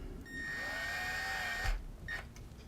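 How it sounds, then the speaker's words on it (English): A power drill drives small screws into a Suzuki DR650 motorcycle turn signal housing, giving a steady whirring whine for about a second and a half that bogs down and stops, then two brief follow-up spins. "I realize I am using a drill here"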